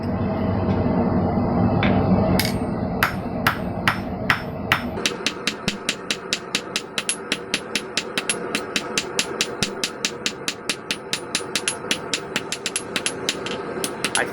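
Rapid, ringing hammer blows flattening hot metal tong pieces during forging, close and loud. Strikes speed into a steady, fast rhythm over a low background rumble.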